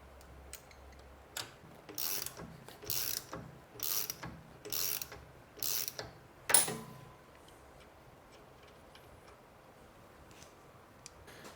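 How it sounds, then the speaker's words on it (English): A ratchet wrench loosens the balancer gear screw on a 2017 KTM engine during a bottom-end teardown, a series of about seven short clicking bursts, then fading to near quiet. "then you can loosen the screw on the balancer gear."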